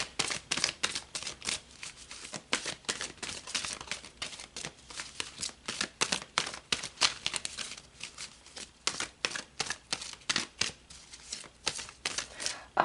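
Tarot cards being shuffled again and again, quick papery riffles and flicks in a brisk, uneven rhythm, close by with no talking.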